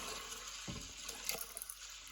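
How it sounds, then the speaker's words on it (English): Water pours steadily into an Instant Pot holding flageolet beans for soaking, a continuous soft rushing splash of liquid with a few small bumps and no talking. "So I'm going to add some more water."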